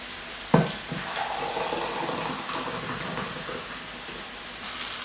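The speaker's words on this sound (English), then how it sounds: "crumble the stock cube into the jug and cover it with hot water" Hot water pours steadily into a jug over a crumbled stock cube in a home kitchen, beginning with a sharp splash and settling into a continuous close, loud rush.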